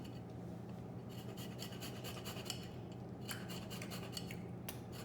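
Quick, raspy scraping strokes come from a planer zester working around the rim of a fresh lime, the rhythmic rubbing bursts fairly faint and close, with no talking.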